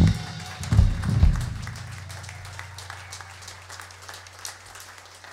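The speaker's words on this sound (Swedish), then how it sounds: "Stor applåd för Staffan Ernestam." An audience applauds for Staffan Ernestam at a stage event on Öland, a short burst of clapping that quickly tapers off into a quiet room with a low steady hum.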